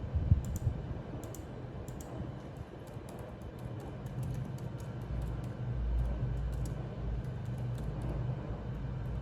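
Light, rapid clicking of computer keyboard keys as an email address is typed, faint bursts of keystrokes in irregular clusters over a low background hum.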